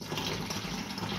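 Homemade nettle beer pours through a sieve strainer in a brief, steady, close splashing trickle of liquid, with no talking.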